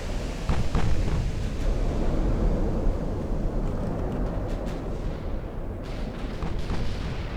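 Battleship gunfire in Ultimate Admiral Dreadnoughts, a steady deep rumble of heavy naval guns and distant shell impacts rolling on without pause, with faint scattered thuds over the continuous roar.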